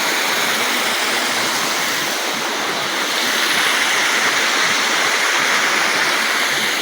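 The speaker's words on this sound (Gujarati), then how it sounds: "આવું ચેક ડેમ આવે છે ત્યાં પાણી પણ ચાલુ છે" Water pours over a check dam in a forest near Ranol village, a steady loud rushing roar that stays constant throughout with no voices.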